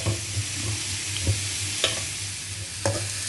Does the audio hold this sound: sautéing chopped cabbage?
yes